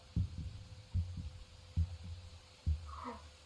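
A steady heartbeat sound effect in the horror video game The Mimic thumps four times in slow, even double pulses, with a faint low hum underneath and a brief higher tone near the end.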